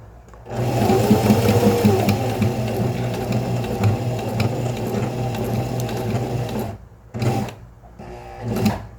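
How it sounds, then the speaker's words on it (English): Sewing machine stitching fabric forward and in reverse while back stitching on a wristlet, with a loud steady rhythmic mechanical whir that stops and restarts in short bursts near the end. "So I'm holding down the lever, and now I'm going to stitch backwards, then release, then we'll continue."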